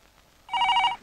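A telephone bell rings in a scene from a 2005 Kannada thriller film. One loud, bright burst of ringing lasts about half a second after a quiet start.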